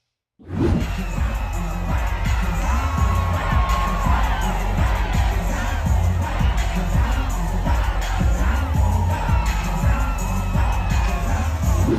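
A large crowd cheering and shouting continuously at a street dance gathering in Los Angeles, with people twerking atop a Wing Street and Pizza Hut; loud, dense whoops and yells that never let up.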